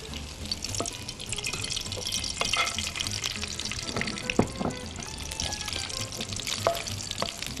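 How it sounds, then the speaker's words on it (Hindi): Keema kebabs fry in a little ghee in a pan, giving a steady crackling sizzle scattered with small pops and spatters, close and moderately quiet with no voice over it. "मैं किस तरह से इसको फ्राई कर रही हूँ, बहुत ही थोड़ा सा घी जाएगा"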